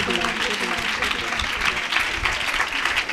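A church congregation at a prayer meeting applauds to welcome the pastor, with dense, sustained clapping from many hands throughout and a voice audible underneath.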